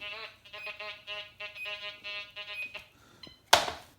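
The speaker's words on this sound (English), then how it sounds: "Pump it till you hear 3 beeps, then you know you've got a correct ground balance" A series of electronic beeps in quick rhythm from a Quest X10 metal detector ground balancing, clear and close, ending with a brief louder noise burst.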